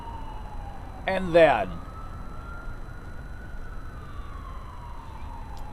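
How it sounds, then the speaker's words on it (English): An ambulance siren wailing faintly in the distance near a rail yard in Chattanooga, a thin, slowly sliding tone under a steady low background, with someone briefly speaking over it. "I hear an ambulance."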